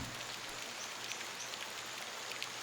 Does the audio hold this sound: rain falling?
yes